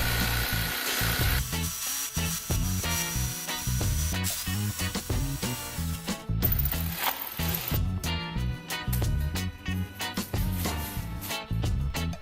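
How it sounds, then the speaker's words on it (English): Rosewood table legs being sawn and sanded for an epoxy resin table, with dense, continuous rasping and grinding friction that stays loud and busy throughout. "I cut the legs and sanded them to equal lengths."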